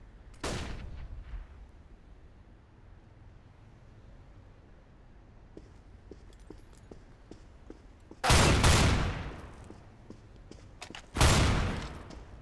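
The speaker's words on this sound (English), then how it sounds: "Throwing a flashbang." In a tactical shooter video game, a thrown flashbang goes off in a sharp, loud bang near the start, then two more heavy blasts ring out later over a quiet, hissing background.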